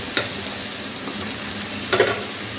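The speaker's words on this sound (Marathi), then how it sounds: "दोन टोमॅटो आपण इथे कापून टाकलेले आहेत" Chopped tomatoes frying in a pan over low gas, a steady soft sizzle with a couple of brief louder stirring scrapes, close and with no talking.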